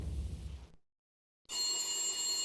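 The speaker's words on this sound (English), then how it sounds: "A beaten-up phone in the entrance hall was ringing." A battered telephone in an entrance hall in the Max Payne game rings loudly and steadily after a short stretch of silence.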